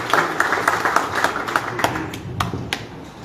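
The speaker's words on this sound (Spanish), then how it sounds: "Un aplauso para él, por favor." A small audience at a commemorative event claps in a loose, uneven burst, with distinct individual hand claps standing out close to the microphone.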